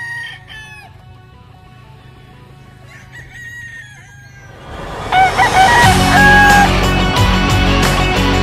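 A stag rooster at a game farm crows loudly nearby after a quieter stretch of distant clucking and bird calls, with other fowl calling around it.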